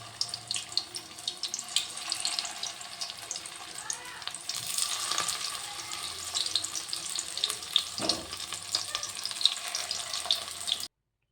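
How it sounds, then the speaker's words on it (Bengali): Radish flower fritters are dropped one by one into hot oil in a kadai on a gas stove, giving a steady, fairly soft hiss with scattered crackles and no voices. "পরিমাণ মতো তেল দিয়ে বড়া একটা একটা করে ঝটপট ছেড়ে দিলাম।"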